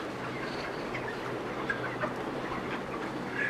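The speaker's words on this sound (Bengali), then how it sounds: "ওই পাশের মুরগিটা একটু দেখাই আপনাদের" Broiler chickens about 35 days old, housed on the second floor of a poultry shed, give soft, scattered clucks against a constant low murmur of the flock.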